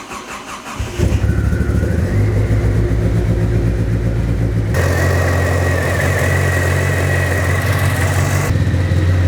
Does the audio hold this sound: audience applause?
no